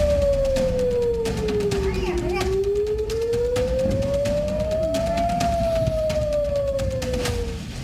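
An air raid siren wails over an Israeli city during a missile attack, its tone sliding slowly down and back up in long sweeps, loud and continuous above a busy background of voices and crowd noise.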